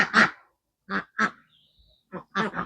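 Several loud, harsh duck quacks on a farm in short bursts, a single call followed by a pair and then a few more, close by with quiet gaps between.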